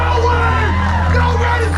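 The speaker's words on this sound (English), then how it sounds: "The crowd loves to see him." Wrestling crowd in Nashville cheering and whooping loudly, with yells and shouts rising over a continuous roar and a voice mixed in.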